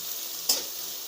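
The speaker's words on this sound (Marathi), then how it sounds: "कांदा टाकायचा, चांगलं असं मिक्स करून घ्यायचं कांदा आणि लसूण, आणि लाल होईपर्यंत तळून घ्यायचा." Onion and garlic frying in a pan, a soft steady sizzle with one brief scrape of stirring partway through, no voices.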